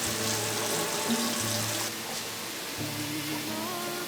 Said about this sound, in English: I have a cookie sheet here and I'm going to fill this with water like this.